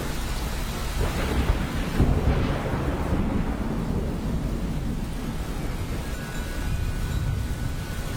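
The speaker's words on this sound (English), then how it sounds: "And here comes the rain, not uncommon in Singapore's tropical climate." Thunder rumbles over steady heavy tropical rain at the Singapore National Day Parade, a broad rolling crash swelling and fading across a continuous wash of downpour.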